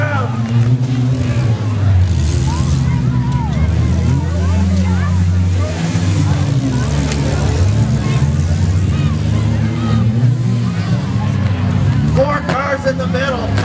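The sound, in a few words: demolition derby cars revving and crashing at Caledonia Fair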